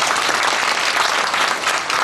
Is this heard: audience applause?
yes